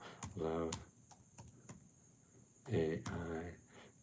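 Computer keyboard typing in short bursts of clicks and taps between stretches of quiet, with a voice speaking over parts of it.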